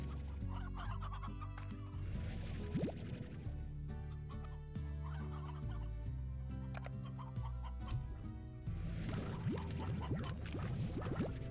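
Many hens clucking in the video game Slime Rancher, a busy overlapping chorus of loud, close clucks and squawks that continues without pause over a steady low background tone.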